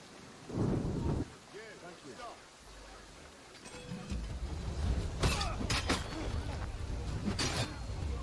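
Rain and rolling thunder in the Assassin's Creed III video game, a steady wash of rainfall with loud rumbling bursts, heard under and between people talking.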